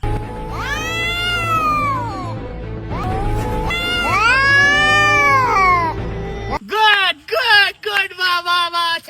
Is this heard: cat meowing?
yes